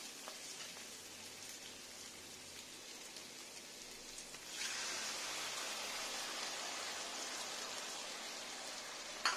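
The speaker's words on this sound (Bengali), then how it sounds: "এবার জল দিয়ে নেব।" Water poured into a pan of frying arum (taro), a quiet sizzle that suddenly swells into a louder continuous hissing sputter midway and holds, no talk.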